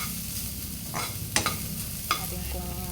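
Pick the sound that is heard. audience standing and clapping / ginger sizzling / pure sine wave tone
ginger sizzling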